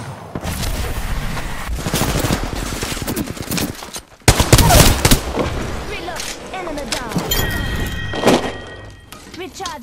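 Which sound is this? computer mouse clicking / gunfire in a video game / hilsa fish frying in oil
gunfire in a video game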